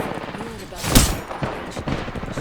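Gunfire in the game Apex Legends: a loud burst of shots near the one-second mark, then a few fainter shots, mixed in with in-game noise and a little voice chat.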